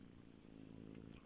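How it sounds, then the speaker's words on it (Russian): A contented cat purrs softly and steadily up close, a low continuous rumble with no voices in the clip. "смотрите, что творит, лапками перебирает, мурчит."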